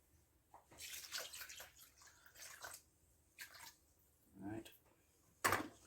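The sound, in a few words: water being poured into a cup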